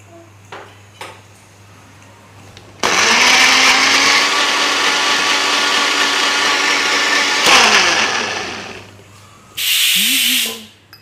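A kitchen mixer grinder blends chutney with water and salt into a thin, fine paste, roaring steadily for about five seconds, then a second shorter whirring burst near the end after a pause.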